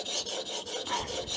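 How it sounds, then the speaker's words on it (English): A plane blade's bevel is drawn back and forth on a sharpening stone in a Veritas honing guide, producing steady close scraping rasps in even strokes about every fifth of a second, with no talking. "we're going to sharpen this bevel using the Veritas honing guide"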